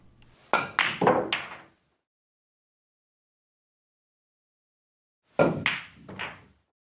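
A billiard draw shot played with the cue ball close to a rail: two separate bursts of crisp knocks, each a quick cluster of cue-tip strike, ball contact and rail thud, ringing in a roomy space.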